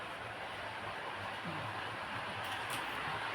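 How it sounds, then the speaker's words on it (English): A model train rolls back toward a buffer stop, giving a low steady rumble with faint rail clatter, close by and without speech. "I can move this train back up towards the buffer stop."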